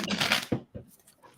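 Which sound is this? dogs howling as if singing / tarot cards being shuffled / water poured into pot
tarot cards being shuffled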